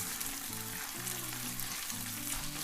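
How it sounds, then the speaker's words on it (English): Ketchup frying in hot oil in a pan for stewed fish, a steady close sizzle with bubbling and a bit of stirring, no voices. "We're gonna fry it for like 2 minutes."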